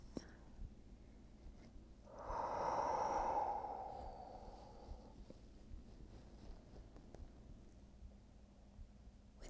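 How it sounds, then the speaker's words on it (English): A single long breath during a yoga practice, one soft airy exhale swelling and fading over a couple of seconds, close and faint amid quiet room tone. "keep returning back to the sound of your breath"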